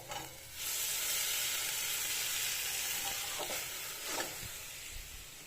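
Drumstick flowers cooking with potato and eggplant in a pan give off a steady, close sizzling hiss of frying that runs throughout, with a few louder crackles and stirring scrapes toward the end.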